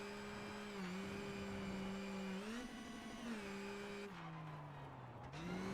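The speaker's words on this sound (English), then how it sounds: "Timo Sunninen will be the next car across the line." A rally car at full throttle passes the stage finish line on a Rally Finland gravel stage, engine note rising and falling through gear changes, loud and close with no talk over it.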